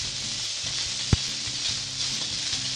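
Edamame stir-fry in a dry pan with no oil, a steady soft sizzle and hiss with light stirring, and one brief sharp tap of the utensil against the pan partway through.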